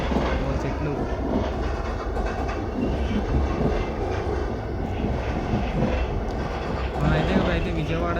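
In the Indian Train Simulator mobile game, a train rolls into Vijayawada station with a continuous rumbling drone of wheels and engine that swells slightly near the end.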